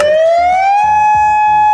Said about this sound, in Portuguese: tu escuta essa sirene e acontece um incêndio florestal